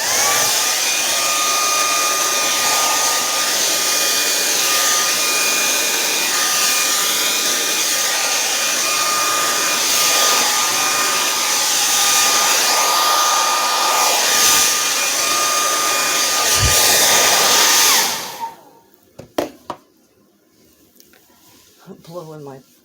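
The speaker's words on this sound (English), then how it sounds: "Let's just take the hairdryer again" A hair dryer blows steadily and loudly across wet acrylic pour paint, a constant whirring roar with a high whine that runs unbroken for most of the stretch before cutting off abruptly, leaving faint clicks and handling noises.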